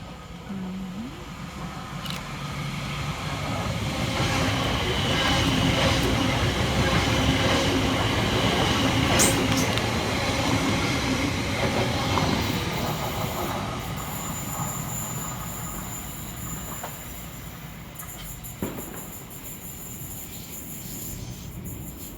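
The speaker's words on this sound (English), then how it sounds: "Next round in the corner for Greater Anglia is 720-552, working 2H32 from London Liverpool Street through to Cambridge North." A Greater Anglia Class 720 electric multiple unit, 720-552, passes through Stamford Hill station while diverted, a loud, steady rumble of wheels and carriages rolling by for about twenty seconds, with squealing wheels and faint rhythmic clatter, fading slightly toward the end.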